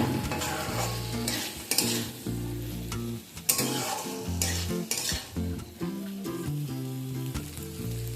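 Grated coconut cooks with spices in a pan, sizzling under repeated stirring strokes and scrapes of a spatula, close and fairly loud with uneven rhythm.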